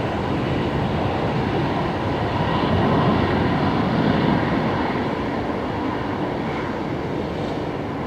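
An Embraer jet touches down at Brisbane Airport, giving a loud, sustained, broadband roar of engines and rushing air. The noise holds steady throughout with no talk over it.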